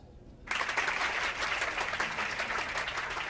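Applause from a crowd in the video game Still Joking bursts in after a brief quiet moment and holds steady and dense as a loud, continuous wash of clapping.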